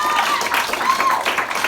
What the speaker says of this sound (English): it is now your time to vote by your applause